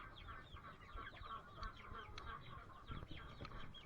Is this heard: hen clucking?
yes